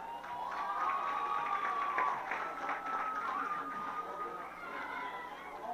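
Crowd at a high school basketball game, Marion vs Remington, cheering loudly and steadily throughout with shouts and applause mixed in, a dense close roar without pause.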